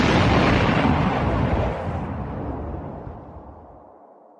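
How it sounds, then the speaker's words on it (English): Loud dynamite explosion on a train, a massive boom that rolls out into a long, fading roar of debris and echo. "the noise of the explosion echoed around the mountains and could be heard 10 miles or 16 kilometres away"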